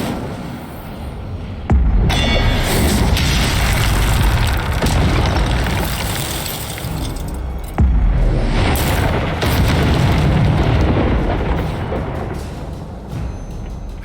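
Incendio fire spell in the video game Hogwarts Legacy, a loud sustained roaring blast with heavy rumble, rising sharply twice and continuing at full strength without speech.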